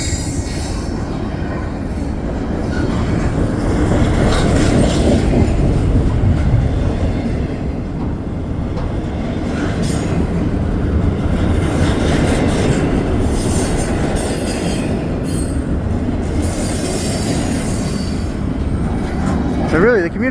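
A heavy CPKC intermodal freight train rumbles past close by at night in winter, a steady loud roar of rolling cars with occasional wheel squeal and clatter throughout.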